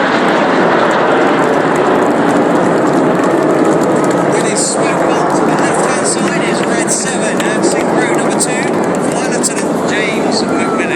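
Red Arrows RAF jets roar through an aerobatic display at a seaside air show in Clacton-on-Sea, a loud, continuous jet rush, while a commentator talks over it.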